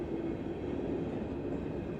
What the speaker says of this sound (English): we got a train, and there it goes